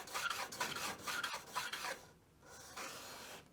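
A steel square rubbed back and forth on a 1200 grit diamond sharpening stone gives close, rhythmic rasping strokes, about five in quick succession, then a softer, steadier scrub after a brief pause.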